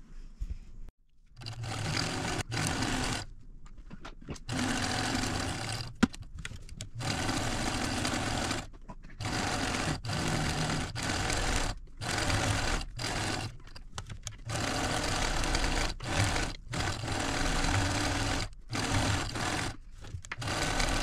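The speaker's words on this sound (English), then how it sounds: "Okay, let's go stitch this." A sewing machine stitches around a last-minute Christmas placemat in a steady mechanical whir. It runs in repeated bursts broken by short pauses, close and fairly loud, with no talking.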